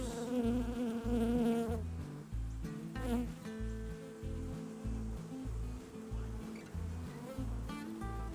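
A dense, steady buzzing of many honeybees at an opened beehive fills the air close by, with fluctuating wing-tone hums and a pulsing low rumble underneath.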